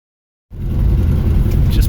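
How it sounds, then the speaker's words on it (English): A 1971 Dodge Dart, an original-paint barn find on its first drive after a brake repair, cruises through a neighborhood; its engine note starts abruptly and holds as a steady, loud, close low rumble and whir. "Putzing through the neighborhood in the 71 Dart."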